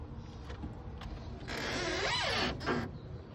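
A small garden greenhouse door or frame creaks and squeaks, a rising and falling squeal midway through over a steady outdoor background.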